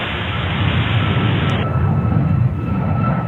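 An airliner takes off from runway 13 right at JFK in New York. A loud, steady broadband jet roar fills the whole stretch without letup, close and dominant, with no voices.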